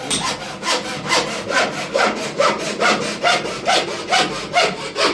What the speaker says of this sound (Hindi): पाइप कटिंग हो रहा है।